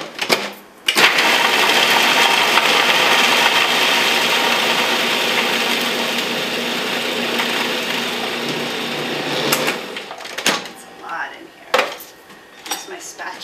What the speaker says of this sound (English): I'm just going to grind this up so it'll go down a little bit